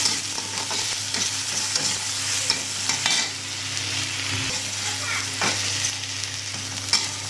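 Tomatoes fry and soften in a pan while being stirred, a steady close sizzle broken by repeated scraping spoon strokes, with a low hum beneath.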